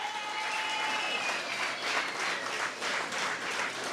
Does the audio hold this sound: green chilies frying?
no